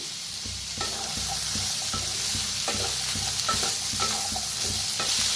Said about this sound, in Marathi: छान मिक्स करून घेतलंय।